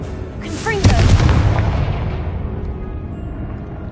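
A Confringo blasting spell cast in the Hogwarts Legacy video game bursts with a sharp, loud boom followed by a long rumbling decay and a bright crackling tail, alone with no talk.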